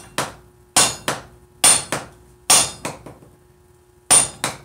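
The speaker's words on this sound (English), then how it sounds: "Probably never knew you could do this with a rawhide mallet, huh?" A rawhide mallet striking metal, giving about ten sharp, close blows in uneven clusters, each with a short ringing tail and brief pauses between groups.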